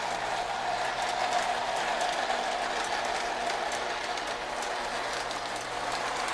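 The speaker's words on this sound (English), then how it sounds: "It's a nice running pair of engines" A pair of Lionel New Haven Alco model train engines run steadily along the track, a continuous whirring rumble with a faint clicking texture, alone without voices.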